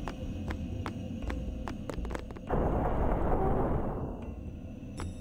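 Thunder spell effect from the Final Fantasy X video game: a sudden loud, rumbling crash that holds for about a second and a half, then fades, over steady background game music with intermittent clicks.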